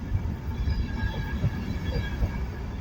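An Intercity 225 train moves through Peterborough station, a loud close rumble of wheels and rail with steady low roar and faint squealing tones, no talk.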